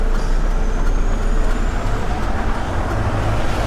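A delivery lorry's diesel engine rumbles loud and close as it pulls away after shifting into gear on a street in Stoke, a steady low drone with traffic noise around it.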